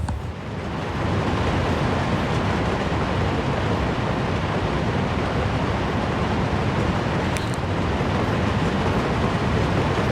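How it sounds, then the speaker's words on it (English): A long train rolling past in the Soviet Republic game, a loud continuous broadband rumble and rushing roar holding steady throughout with no voices. "This is a long damn train."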